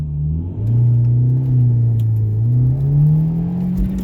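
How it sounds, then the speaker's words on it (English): A car with a differential stiffening kit launches hard and pulls through a couple of gears, its engine droning loud and close with pitch climbing and dipping at shifts. "I'm gonna do a little launch and run through like 2 or 3 gears"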